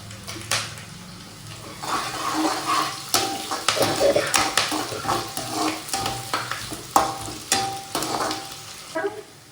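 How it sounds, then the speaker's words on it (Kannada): Curry leaves drop into hot oil in a pan for a chicken curry, a crackling sizzle broken by repeated sharp clinks and scrapes of a utensil against the pan. "ಇವಾಗ ಕರಿಬೇವು ಹಾಕೊಳ್ಳೋಣ."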